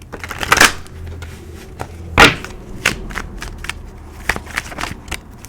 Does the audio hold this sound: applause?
no